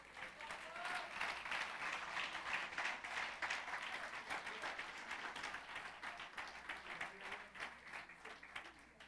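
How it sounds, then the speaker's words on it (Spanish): A church congregation applauds together in a steady, dense wash of clapping that fills the room for the full stretch, loud and continuous without a break. "Puedes aplaudir al Señor."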